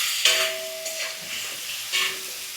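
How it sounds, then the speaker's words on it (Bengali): Half a spoon of black pepper powder being sautéed with spices in a pan for a Bengali rohu fish curry, a steady close sizzle and hiss with three louder bursts of spoon-scraping stirring. "হাফ চামচ গোলমরিচের গুঁড়ো দিয়ে ভালো করে এটা কষানো হচ্ছে"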